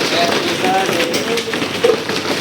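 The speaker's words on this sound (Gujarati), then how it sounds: "વરસાદ પડવા માંડ્યો મોટા" Heavy rain pours down in London in a constant dense hiss, with someone speaking quietly underneath the downpour.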